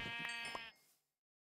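A sheep in Minecraft gives one short, close bleat that stands alone and quickly fades to silence.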